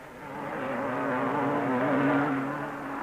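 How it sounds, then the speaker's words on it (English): BSA and Husqvarna motorcycles race over a bridge and up a hill, engines droning steadily with a wavering, rising pitch that swells and fades slightly, fairly close and continuous with no talk. "Over the bridge and up the hill go the two BSA Husqvarna duels."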